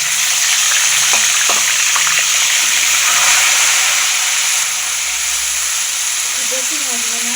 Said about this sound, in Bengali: এখানে আমি চিকেনটা হালকা করে ফ্রাই করে নেব।